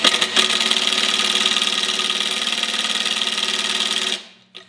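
Makita 18V brushless impact driver spinning a screw at low speed, a steady whirring motor hum held for about four seconds before cutting off, close and loud, with no talking.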